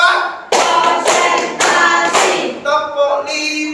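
Several hands clap together in sharp, loud bursts with short pauses between, a classroom group keeping a counted rhythm.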